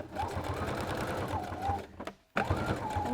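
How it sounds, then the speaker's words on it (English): Close, moderately quiet sewing machine sewing a zigzag stitch on fabric: a fast, even needle chatter that stops briefly near the end, then starts again. "keep going and do another lap around the pupil using the same zigzag stitch."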